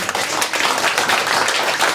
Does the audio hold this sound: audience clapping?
yes